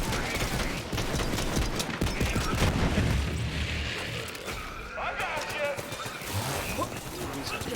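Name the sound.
enemy laser gunfire in video game Borderlands 3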